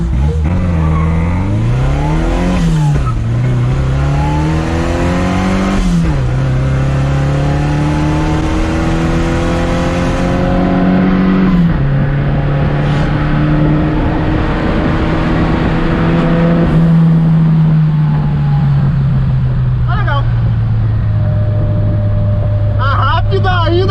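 A supercharged Chevette engine revs hard and accelerates repeatedly, its loud whining pitch climbing and dropping, with people talking over it.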